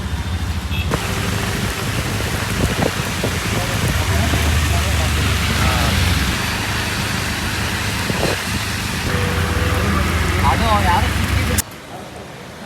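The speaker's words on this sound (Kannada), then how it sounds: "ಇವಾಗ ಮಳೆ ಬೇರೆ ಬರ್ತಿದೆ ಇಲ್ಲಿ ಗೈಸ್, ಫುಲ್ಲು ಮಳೆ ಗೈಸ್" Heavy rain pours down in a steady loud hiss, with a passing vehicle's rumble and people talking over it before it cuts off near the end.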